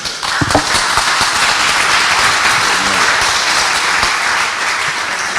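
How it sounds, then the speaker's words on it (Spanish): An audience at an engineering conference applauds, a loud, dense burst of clapping that sustains evenly for several seconds before easing slightly. "Un aplauso para ellos."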